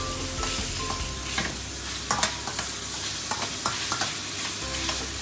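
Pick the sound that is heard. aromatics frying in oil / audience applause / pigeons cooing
aromatics frying in oil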